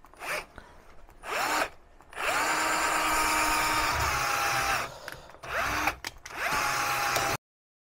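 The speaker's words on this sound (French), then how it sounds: "Je vais tracer, couper et donc là, on va percer." A power drill boring a hole, heard up close in repeated bursts: short whirs, then a long sustained whine, with brief pauses and a final run that stops abruptly.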